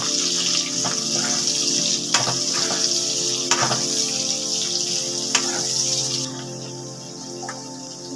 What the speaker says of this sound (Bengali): এখানে আছে ক্যাপসিকাম আর কাঁচা লঙ্কা, এটাকে আমি হালকা করে একটু ভেজে নেব অল্প করে।